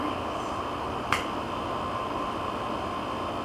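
A single crisp finger snap at a hypnosis session, close and sharp, standing alone over a steady low hum of room noise.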